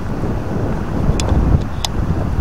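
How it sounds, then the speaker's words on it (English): Strong wind buffets the microphone at a scenic overlook at Greenville Falls, Ohio, a constant loud rushing roar with a few brief faint higher noises mixed in. "It's windy."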